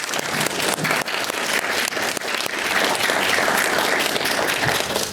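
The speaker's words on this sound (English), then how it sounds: "let's give both these candidates a big round of applause." A crowd at a Ward 5 candidates' coffee event applauds both candidates, dense sustained clapping that swells and stays loud for several seconds.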